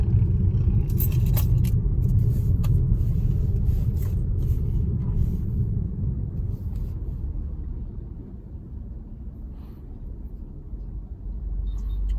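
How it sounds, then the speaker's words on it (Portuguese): Car keys jangle faintly inside a quiet BYD Dolphin Mini electric car, light metallic clinks with thin high ticks over a steady low road rumble, close to the listener. "A única coisa que faz zoada no carro é uma chave."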